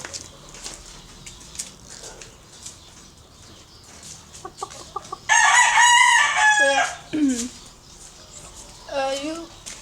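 A rooster crows loudly and hens cluck nearby, with talking in the background before and between the calls.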